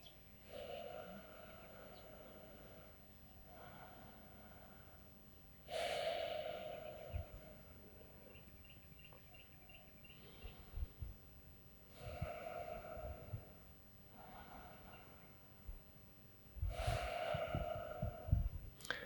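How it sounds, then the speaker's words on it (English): Slow nasal breathing during a breathing exercise, a few long inhales and exhales through the nose, each one a soft hissing rush with quiet pauses between, heard close with no talking. "In and out through the nose."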